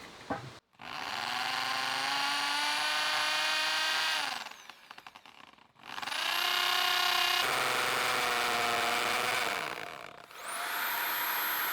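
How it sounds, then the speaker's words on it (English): A hammer drill bores into concrete during deck building, running in three long whining bursts separated by brief pauses and spin-downs, the motor pitch steady and fairly faint. "It seems like I finally found a use for my hammer drill."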